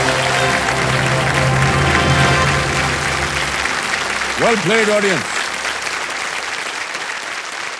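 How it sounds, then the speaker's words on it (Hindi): Studio audience applause on a TV quiz show, a loud dense burst of clapping under the host's voice that fades as a short musical sting plays. "बजा दीजिए ताली"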